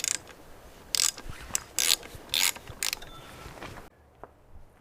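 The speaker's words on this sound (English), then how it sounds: "Time to change the oil filter, and we're going to start by removing the reservoir plug, putting some drain tube over that." Reservoir plug being removed from a Mercury 75-115 hp FourStroke outboard motor during an oil change: loud, close ratcheting clicks and mechanical rasps in several bursts, ending in a quieter stretch with no speech.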